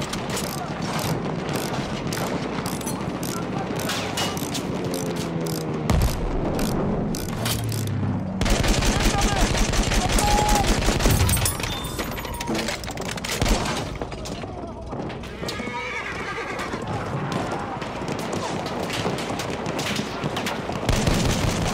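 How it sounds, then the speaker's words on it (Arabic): Enemy machine gun fire in Battlefield 1, dense bursts amid a busy battle mix with booms and crashes, loudest in the middle stretch, with a voice speaking over the game noise. "رشاش إنه للعدو."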